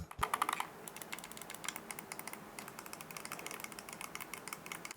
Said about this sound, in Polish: Klikalne przełączniki tutaj.